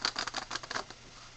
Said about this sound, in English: Your regular table shuffle will look something like this.